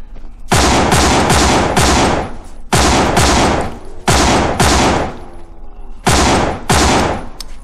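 Rapid full-auto bursts of gunfire from the zombie video game No More Room in Hell, four or five loud, close volleys separated by short pauses, with no talking.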